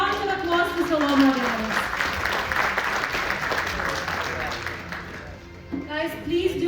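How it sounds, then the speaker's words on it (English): Audience applause at a startup pitch competition at a defence summit, steady clapping from a crowd that fades gradually, with a voice speaking over the start and the end. "Let's give a round of applause to Solomon."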